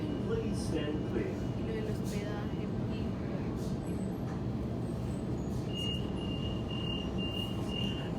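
Sydney train travelling between Redfern and onward stations on the Sydenham to Chatswood line, a steady loud rumble and rattle of the carriage throughout, with faint high tones near the end and some talk in the background.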